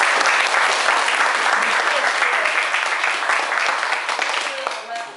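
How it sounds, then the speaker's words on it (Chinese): Audience applause for a clarinet solo in a clarinet class, a dense, steady wash of many hands clapping that carries throughout and fades slightly at the end. "我们跟美花鼓鼓掌。"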